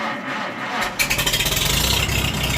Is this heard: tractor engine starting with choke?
yes